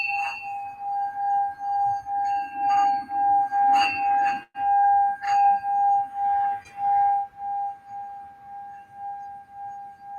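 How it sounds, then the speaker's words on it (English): A handmade Tibetan bell made of seven metals is struck several times. Each strike leaves a clear, sustained metallic ring that lingers and slowly fades, with no talking. "I have a Tibetan bell. The Tibetan bell has 7 different metals."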